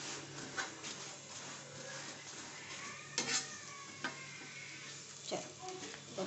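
Parathas frying on a stovetop pan give a soft, steady sizzle, with occasional utensil scrapes and clinks, fairly quiet and close.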